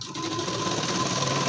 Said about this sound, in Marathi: तर या ठिकाणी बघा आपण आता स्टिच करायला घेऊ.